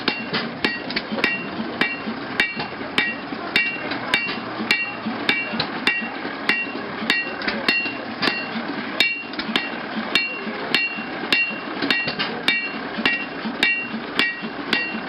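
Hot metal hammered on an anvil at an antique tractor show, a steady rapid series of sharp ringing clanks repeating roughly every half second, close and loud with no talk.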